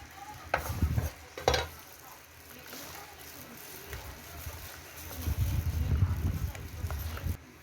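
Cubed radish being tossed with kimchi seasoning gives off wet, squelchy mixing and rubbing sounds, near and moderately loud, swelling in two bursts, with a voice talking over part of it.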